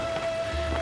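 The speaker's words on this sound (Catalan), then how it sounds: "Plou." Rain falls steadily on a mountain camping spot, a soft continuous patter under a faint steady hum, with no talking, in less than a second of sound.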